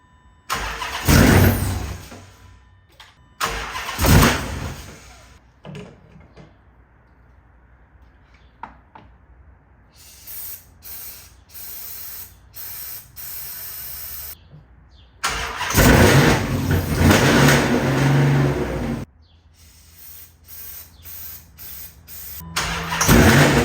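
A built Dodge Charger Hellcat with a fueling problem and a rich air-fuel mixture cranks in several loud bursts, catching and dying between quieter pauses, with a rough idle in stretches and no talking.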